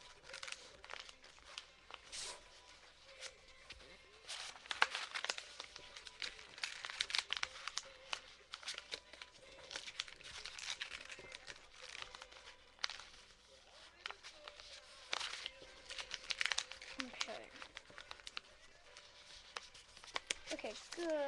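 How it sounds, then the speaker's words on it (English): A sheet of paper rolled into a tube, close crinkling and rustling in irregular bursts. "I'm going to take a piece of paper. You're going to roll an average size tube."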